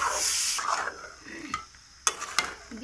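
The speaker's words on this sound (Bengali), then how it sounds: "এটাকে বেশিক্ষণ ভাজবো না, এই 30 সেকেন্ডের মতো নাড়াচাড়া করে নেব।" Prawns stirred into a cooked spice masala in a pan, giving soft scraping stir strokes and a few sharp utensil clicks over a faint sizzle, close and fairly quiet.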